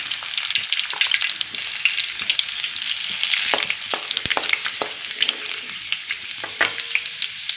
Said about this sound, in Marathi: आता तेल आपलं छान प्रकारे तापलेलं आहे त्यामध्ये कट करून घेतलेला लसूण टाकून घेणार आहे